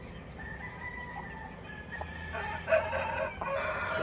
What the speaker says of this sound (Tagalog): itong hawak ko is isa itong brood hen